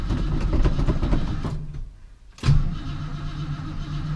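A 1968 Ford Mustang is cranked on a very cold start, a dense mechanical churn that cuts out briefly and then rumbles back up, sounding rough and uneven throughout.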